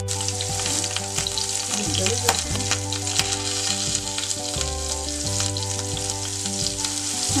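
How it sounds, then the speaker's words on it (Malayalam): Crushed onion and chilli hit hot coconut oil in a kadai, giving a loud, continuous close-up sizzle with crackles and occasional stirring scrapes, and no talking. "നമുക്കിതിലേക്ക് ഈ ചതച്ച് വെച്ചിരിക്കുന്ന ഉള്ളിയും മുളകും കൂടെയുള്ള കൂട്ട് ഇട്ട് കൊടുക്കാം."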